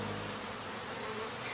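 Honey bees from newly arrived package colonies buzz close by in a steady, continuous drone, loud and alone without talk.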